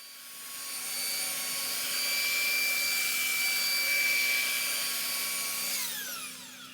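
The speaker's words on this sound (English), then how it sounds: "You will have to do a bit of sanding with your belt sander." A belt sander works a wooden dining table for an Airstream Flying Cloud RV, giving a steady, loud motor whine with a bright harmonic edge that holds for several seconds before winding down near the end.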